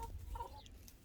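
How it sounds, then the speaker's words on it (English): California White laying hens cluck softly in a short, faint burst of a few low clucks, heard alone with no talk. "they are California whites, and they're the most prolific laying"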